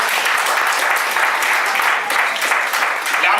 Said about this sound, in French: Acclamons fort le Seigneur.